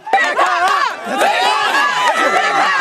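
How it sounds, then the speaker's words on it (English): Family and friends at a college graduation cheer for a graduate, a close, loud burst of overlapping shouts, whoops and excited voices that carries on without a break. "Senior Vernicia Robin has a whole team cheering her on at graduation"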